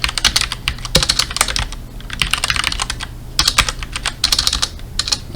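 Rapid clatter of a computer keyboard during network configuration work, loud and close, coming in several bursts separated by short pauses, with no talking.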